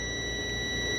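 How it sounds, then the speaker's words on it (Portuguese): Steady electronic beeping from a multimeter's continuity test across a circuit breaker disconnected from mains power, a sustained high tone held throughout at moderate level, with no talking. "Bipou, tá vendo? Tá bipando."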